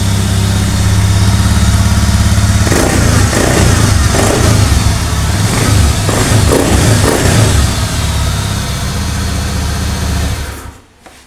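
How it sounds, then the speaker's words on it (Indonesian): A Honda Scoopy motor scooter engine with a fault that makes it stall suddenly and the MIL light blink cranks and catches, then runs loudly with uneven revving and a steady idle before cutting off abruptly at the end. "Sekarang kita coba nyalakan."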